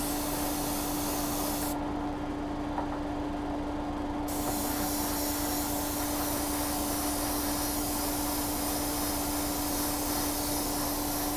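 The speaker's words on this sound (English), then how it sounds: "you can use a hairdryer." Steady, loud broadband blowing with a constant hum runs the whole time without pause, a hair dryer on a high setting close by, drying airbrushed primer.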